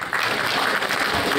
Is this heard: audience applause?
yes